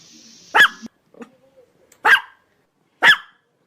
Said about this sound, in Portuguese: O latido do cachorro tem um som curto.